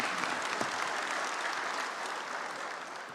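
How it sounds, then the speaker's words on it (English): A large audience at an official industrialization week opening in Zimbabwe applauds, dense sustained clapping that fills the room evenly and fades slightly toward the end. "Another big round of applause."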